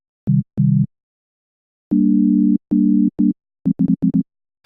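A dub techno synth chord of three unison voices set to minor, still on a sine wave, plays as pure buzzing tones in short stabs: two brief hits, a few longer held notes, then a quick run of clipped pulses with silence between them.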